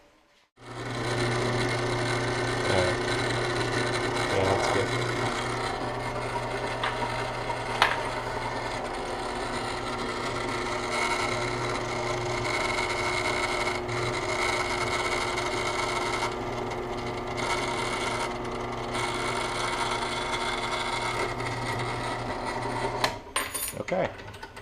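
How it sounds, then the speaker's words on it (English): A steady, droning motorized whir runs throughout at close range, like a drill press grinding through material, with a brief spoken remark partway through. "use my drill press, and drill that."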